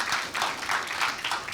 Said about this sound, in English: I want to, before you clap, just a huge round of applause for Myra.